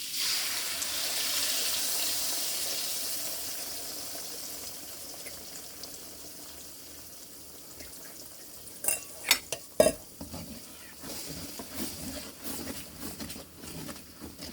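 Eggs dropped into a hot blend of sunflower and extra virgin olive oil for shredded chicken fried rice, a soft hiss fading over several seconds, then a burst of sharp scraping and clattering stir strokes close by, no talking.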